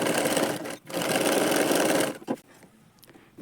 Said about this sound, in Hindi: उसके बाद हम इस पर सिलाई चलाएंगे